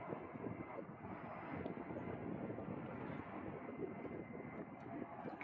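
A steady, distant roar of an A-10 Thunderbolt II jet coming in to land at an air show, with its engines holding an even broadband rumble and wind noise throughout.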